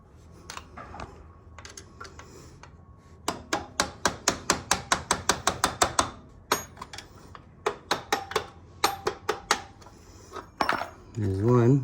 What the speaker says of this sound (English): I'm just gonna use a Robertson and a hammer to tap those bolts out.